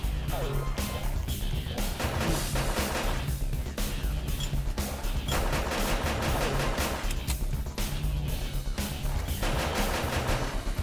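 Continuous loud Gatling gun fire and other weapon shots fill a Gunz: The Duel PvP match, with dense rapid bursts and blasts running throughout as players talk over the din.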